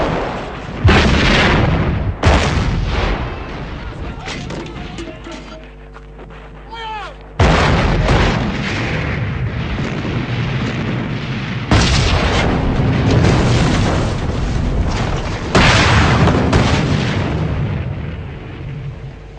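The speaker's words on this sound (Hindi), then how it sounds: "जर्मनी की योजना यह थी कि सड़कों पर लड़ने की बजाय तोपखाने से हमला किया जाए" A German artillery bombardment of a city in World War 2 sounds as a series of heavy booming blasts, each a loud sudden impact followed by rumbling decay, spaced a few seconds apart with quieter lulls between.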